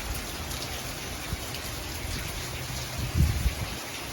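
Steady rain hisses evenly throughout on the Pinhoti Trail, with a low soft thump near the end and no voices.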